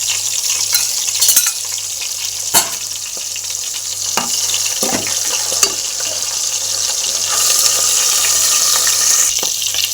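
Dried fish frying in a hot pan, a continuous bright hiss with occasional scrapes and taps of a utensil, fairly loud and close.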